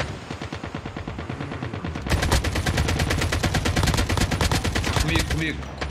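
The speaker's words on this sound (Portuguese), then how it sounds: "tem alguém atirando nós. Tem outro aqui atirando na casa." Rapid automatic gunfire in Call of Duty Mobile battle royale, played in first-person mode: dense, steady bursts of shots that grow louder and fuller after the first two seconds and continue without a break.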